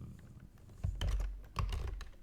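Typing on a computer keyboard while naming a trance track in Bitwig, a few quick clustered keystrokes close by over a low hum, no voice.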